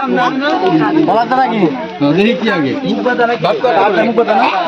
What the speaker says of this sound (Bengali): প্রচুর লোকজন ভিড় জমাইছে